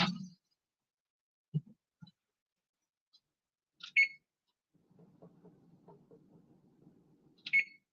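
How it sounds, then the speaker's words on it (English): A kitchen timer being set for ten minutes while baking cookies gives short, sharp beeps with long quiet gaps between them, and faint low handling sounds fall in between. "I'm going to set a timer for 10 minutes"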